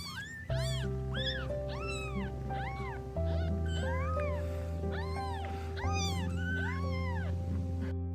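Rescued newborn kittens mew continuously, many thin high overlapping cries in rapid succession, close and fairly loud, accompanied by steady musical tones underneath.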